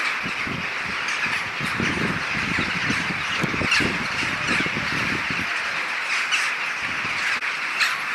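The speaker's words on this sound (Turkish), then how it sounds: "Bu yıl çok fazla karga var." A large flock of crows caws over a town in Ardahan, a dense chorus of overlapping harsh calls from many birds, some near and loud, others distant, continuing throughout.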